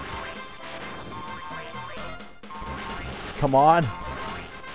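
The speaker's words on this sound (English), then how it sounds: "you have to keep smashing down the doors until they open" Doors being smashed down in the game Dragon Quest Heroes: Rocket Slime, repeated crashing thwacks amid busy game effects and a rising whistle-like tone, with someone talking over the action.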